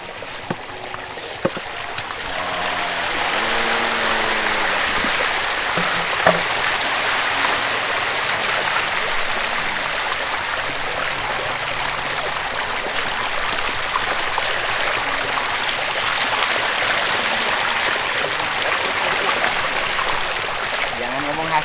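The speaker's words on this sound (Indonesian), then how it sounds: "Ini kan air sungai yang di dalamnya ada air-air yang mengalir dari" River water fed by runoff from rice fields rushes steadily, a loud, continuous broadband wash that lasts throughout, with a person talking faintly underneath.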